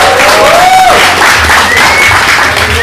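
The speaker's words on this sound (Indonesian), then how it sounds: "Coba tepuk tangan buat tim panitia dong." Crowd at a church youth retreat session applauding the organizing committee, a dense loud burst of clapping with scattered cheers throughout.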